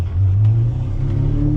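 A Ferrari 599 with a manual gearbox revving loud and close, its engine holding a deep, steady roar through a short burst.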